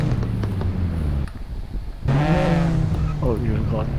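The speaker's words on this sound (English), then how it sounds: "Apparently the GR Yaris RL got full sound." A GR Yaris RL engine hums steadily in a racing video game on the rain-soaked Shutoku expressway at night, dropping briefly and then surging to a higher revving whine, with a voice speaking over it.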